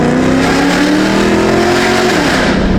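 A loud 700-horsepower Corvette C6 Z06 revs hard and continuously, its engine note climbing and holding at full volume close by, with no talking.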